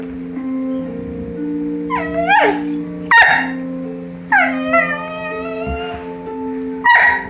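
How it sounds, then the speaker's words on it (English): A dog lets out a series of odd, funny vocalizations: squeaky whimpers and yips rising into short barks, in several bursts over a steady low hum, with no one talking. "No barking."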